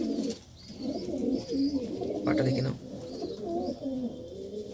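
Several pigeons at a market coo in repeated low throaty phrases nearby, with people talking over them.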